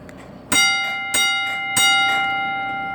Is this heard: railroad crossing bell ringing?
yes